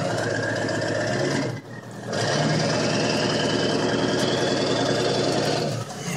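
A Powerstroke diesel truck engine with a stack exhaust drones steadily from inside the cab, with a whining turbo tone on top, briefly easing off and then resuming while the truck drives.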